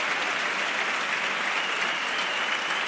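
A theatre audience gives a sustained, dense ovation after a comparsa's pasodoble at the 2018 Cádiz carnival contest semifinals, with steady loud clapping throughout and no talk over it.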